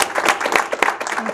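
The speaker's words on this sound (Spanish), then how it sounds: "Así que otro fuerte aplauso para Kristel." An audience applauding at a live talk event, heard as dense, continuous clapping for the whole short stretch, loud and close, with no voices over it.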